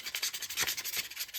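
600-grit sandpaper rubs over a prop phaser replica in quick, rhythmic back-and-forth strokes, soft and close with no voices.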